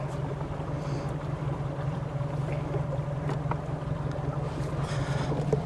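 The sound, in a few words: fishing boat driving past fish on a lake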